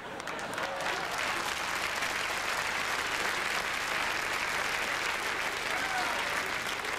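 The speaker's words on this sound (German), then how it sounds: "nicht einfach nur so klatschen" A comedy festival audience in Arosa claps steadily throughout, a dense sustained wash of applause from a large crowd with no breaks.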